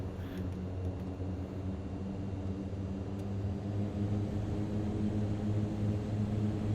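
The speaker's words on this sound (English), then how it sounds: "Reverse thrust." A Mitsubishi MU-2 turboprop rolling out after landing, its engines in reverse thrust giving a steady, droning roar with a low humming tone, continuous and moderately loud throughout.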